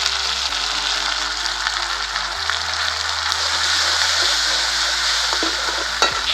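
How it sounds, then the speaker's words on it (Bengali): A splash of water goes into ground spice paste with turmeric and salt in a hot pan while making an egg kalia curry. It gives a steady, close sizzle and frying hiss with light stirring, and no one speaks. "হালকা একটু জল দিলাম,"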